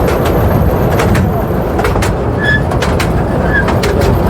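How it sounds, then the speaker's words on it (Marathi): Steady rumbling clatter of the small toy train on Elephanta Island, Mumbai, running continuously, with a faint squeal or whistle-like tone briefly rising above the rolling noise. "गाडीचा आवाज आहे का जबरदस्त गाडीचा आवाज आणि बऱ्यापैकी स्पीड तर बघा अशी हे ट्रेन"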